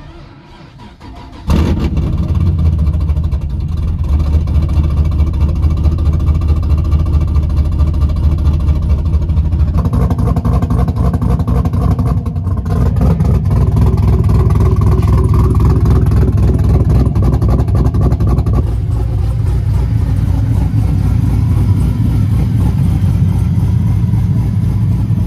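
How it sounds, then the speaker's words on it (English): A ZL1 Camaro engine cranks and catches, then idles with a loud, steady rumble before revving up and settling again. "fire it up and hear it run"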